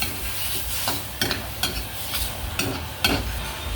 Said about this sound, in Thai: ใส่น้ำลงไปนิดนึงครับ ผัดให้ออกมาน้ำขุกขิดนะครับ